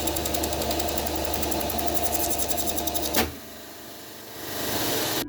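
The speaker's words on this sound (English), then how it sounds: "I started with cutting some strips on my bandsaw" A bandsaw cuts thin wooden strips with a steady, close mechanical whir that stops abruptly partway through, leaving a quieter hum.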